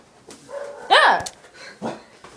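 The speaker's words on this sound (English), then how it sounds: "Our dog's barking at us in here." A dog barks indoors: a sharp, loud bark rises out of quieter yips and whimpers, then a softer bark follows, all close by in a home.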